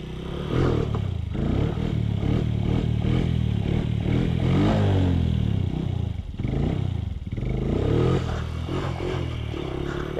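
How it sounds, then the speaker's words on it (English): A small Honda TRX90 ATV engine revs hard during slow wheelies, a loud, continuous buzzing drone with surging throttle bursts and brief dips, close up with no talking. "Okay, so I'm gonna just do a wheelie real quick."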